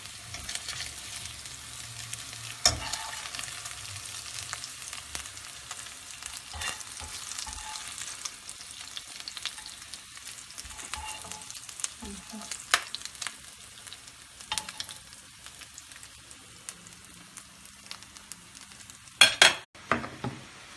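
Chicken döner sizzles in a pan as it is cut and cooked, a steady quiet frying hiss broken by clinks and scrapes of a utensil against the pan.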